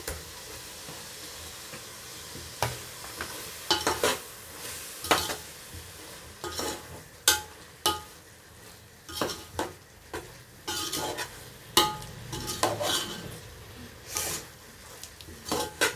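A spoon scrapes and clinks against a pan while eggs are stirred into sizzling onion-tomato biryani masala, with irregular metallic knocks over a steady frying hiss.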